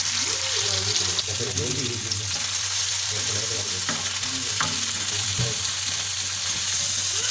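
Tawa kaleji, pieces of liver frying on a hot griddle, sizzling steadily throughout with occasional stirring scrapes, with a voice talking over the cooking.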